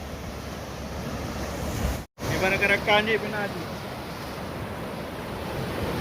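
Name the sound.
sea waves on the shore at Laweung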